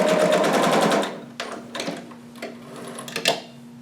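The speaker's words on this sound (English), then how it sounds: "And then back stitch a little." A sewing machine runs a fast, steady burst of stitching, then stops and gives a few short back-stitch spurts and clicks, close up and with no talking.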